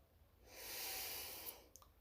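A slow, soft inhalation through the nose during a guided relaxation exercise, a gentle airy swell that builds and eases over about a second, followed by a couple of faint small clicks, close and quiet with no talking.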